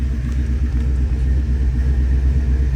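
A 1951 Ford Woody Wagon County Squire engine idling just after an ice-cold start, a steady low rumble heard close up with no talk.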